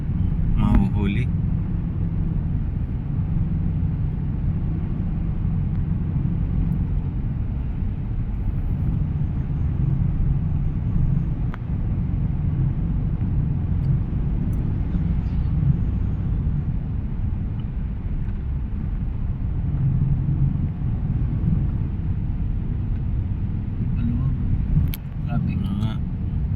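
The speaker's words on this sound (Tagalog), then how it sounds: "Traffic." Steady road traffic rumble heard from inside a vehicle moving through Quezon City streets, a continuous low drone of car engines with faint clicks, lasting throughout without a break.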